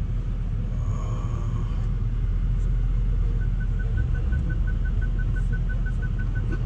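A big BMW car's engine rumbles steadily from inside the cabin, a constant low drone with a faint high tone coming in partway through.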